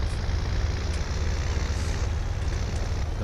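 A tractor engine idles in Farming Simulator 19, giving a steady low rumble with constant loudness and no talking.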